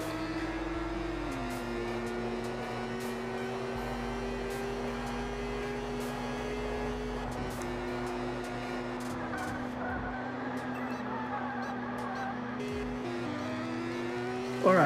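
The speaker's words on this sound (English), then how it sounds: "So you can see that the car is moving." Car engine in a Unity racing game: a steady synthetic motor drone whose pitch holds then drops and shifts as the car changes speed, continuous and fairly loud with no talk over it.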